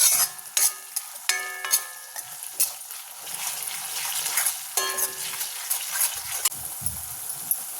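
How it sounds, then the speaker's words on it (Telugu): Ginger garlic paste fries with onions in a pan. A spoon scrapes and taps the pan in quick, uneven strokes, some ringing briefly, over a soft, continuous sizzle that swells slightly toward the end. "ఇదంతా పచ్చివాసన పోయేదాకా ఫ్రై చేసుకుందాం"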